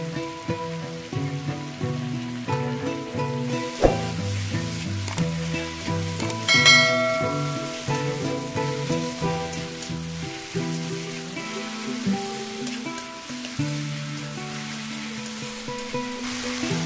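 Two large tomatoes fry with onion, ginger and garlic for a spicy mutton kosha, a soft continuous sizzle under prominent background music, with no speech.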